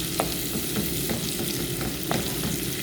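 Crushed garlic fries in overheated, partly browned butter for spicy garlic shrimp, a loud, continuous sizzle broken by a few sharp scrapes of a utensil stirring the pan.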